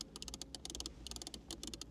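Climate control switches in a new Bentley Continental GT Speed clicking crisply, a quick run of sharp, close metallic clicks in uneven bursts with brief pauses, alone and quiet.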